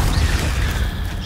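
Incendio fire spell cast in Hogwarts Legacy, a short low whooshing boom that swells and rumbles for about a second with no speech over it.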